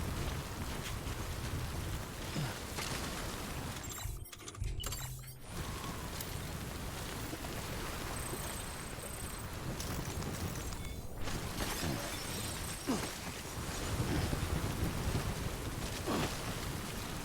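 Timefall rain in Death Stranding: a steady, hissing downpour runs throughout, broken by a brief sharp crash and a short dip in the noise. There are a few faint clicks, and the rain swells slightly toward the end.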